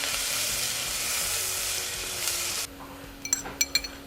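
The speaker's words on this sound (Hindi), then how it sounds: "इसे भी डाल देंगे और इसे हल्का लाइट ब्राउन होने तक, हल्का ब्राउन होने तक फ्राई करेंगे।" Finely chopped onion frying for urad dal, a loud steady hiss and sizzle that drops off sharply, followed by a few light metallic clinks and taps of a spoon on the pan.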